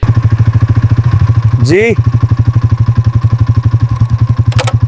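A motorcycle idles nearby with a loud, steady, rapid thudding beat throughout, while a voice briefly speaks over it partway through.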